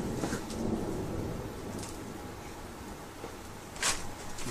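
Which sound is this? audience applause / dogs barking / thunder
thunder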